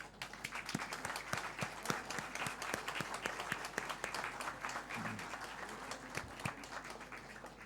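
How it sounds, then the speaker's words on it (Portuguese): An audience at a 1 December commemoration speech applauds, with steady, moderately distant clapping and sharp individual claps standing out, continuing throughout. "para quem peço o vosso aplauso"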